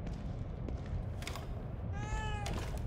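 A red-eyed cat in a spooky Halloween video game gives a short, clear meow near the end, faint against a steady noisy background hum.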